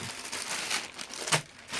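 Close, crackly crinkling of a plastic AliExpress parcel bag, with a sharper rustle near the end.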